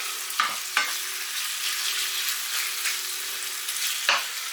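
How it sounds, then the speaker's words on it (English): Lamb stir-frying in olive oil for a harissa dish, a steady close sizzle with a few sharp scraping stirs of the pan spaced through, no voices. "then we just stir and fry that now until it starts to brown"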